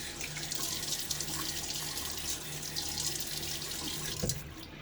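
A bathroom tap runs steadily into a sink as water is used to wet the face before a shave with a Timeless stainless steel razor, with a continuous splashing hiss and a brief clatter near the end.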